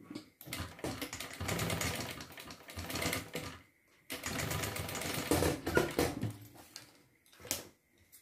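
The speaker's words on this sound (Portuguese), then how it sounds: "E vou costurar." A sewing machine stitches a homemade thermal bag in loud, steady bursts of rapid mechanical whirring, stopping briefly between two long runs and ending with a shorter burst.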